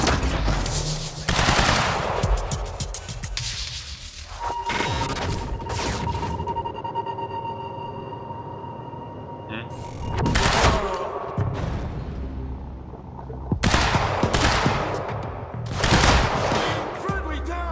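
Gunfire from the Quantum Break video game in a combat scene: loud bursts of automatic fire and single shots come in clusters, separated by quieter stretches with a tonal hum, and a voice speaks briefly.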